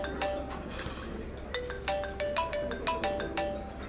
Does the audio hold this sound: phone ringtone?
yes